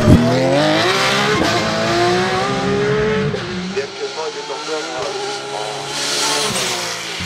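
A Porsche 997 GT3 R race car at a hill climb, its engine roaring loud and close through the gears, with a presenter's voice over it.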